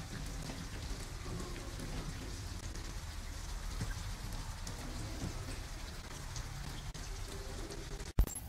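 Steady rain in the video game Detroit Become Human, a dense hiss of drops pattering on surfaces with a low rumbling undertone, continuous throughout and ending in a brief sharp clunk.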